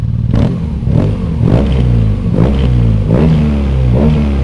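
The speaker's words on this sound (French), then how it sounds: "je te fais écouter le petit bruit du pot d'échappement" A 2018 BMW R nineT motorcycle exhaust revs repeatedly up close, about six sharp throttle blips rising and falling in a loud, rhythmic series.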